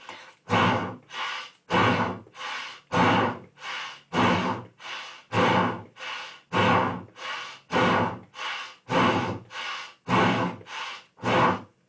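During a yoga class side crunch, loud, heavy breaths follow in a steady rhythm, about a dozen forceful huffs and gasps, each separated by a short pause.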